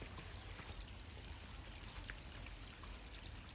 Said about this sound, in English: I found running water.